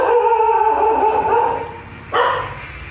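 A pet dog outside barks and howls with a drawn-out, whining tone, then lets out a sharp yip near the end, heard fairly loud and close.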